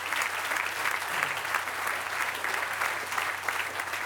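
Steady, dense applause from a large crowd at the grand opening ceremony of a transit line, cheering the engineers in a continuous even wash of clapping that holds at full strength from start to end under a low background hum.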